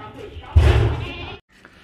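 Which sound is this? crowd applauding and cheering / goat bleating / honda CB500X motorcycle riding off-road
goat bleating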